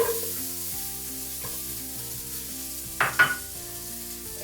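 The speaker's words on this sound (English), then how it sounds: "spices are nice and toasted. I'm gonna have my carrots that I coin cut up here." Toasted whole spices sizzle steadily in a hot pan for a chickpea curry, then coin-cut carrots drop in with a couple of loud, close bursts of hissing and clatter, and the sizzle carries on afterward. No one speaks.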